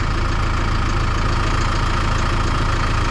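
A farm tractor engine idles steadily close by, a loud continuous low rumble with a fine knocking pulse that holds unchanged throughout, with no voices.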